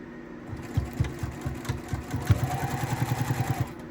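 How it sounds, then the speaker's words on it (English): A sewing machine stitches down a quilt corner with a fast, even mechanical chatter of needle strokes. The strokes start slowly and speed into a quick steady rhythm, close and fairly loud, with no talk. "All right, so we are ready to sew that corner down."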